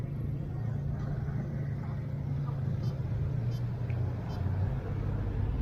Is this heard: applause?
no